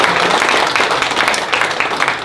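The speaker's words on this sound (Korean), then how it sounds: "한번 박수 한번 주십시오." An audience at a book launch event breaks into loud, sustained applause, many hands clapping together in a dense, even burst.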